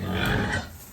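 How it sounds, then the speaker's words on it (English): Pigs on a farm give a loud, close burst of squealing and grunting that lasts under a second, then fades quickly, with no talking. "Do other people with pigs enjoy the squealing and screaming?"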